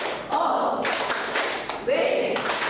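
Children in a classroom clapping a short rhythmic 'tepuk wow' cheer, quick bursts of hand claps mixed with voices chanting along, loud and close, with two distinct phrases separated by a brief pause.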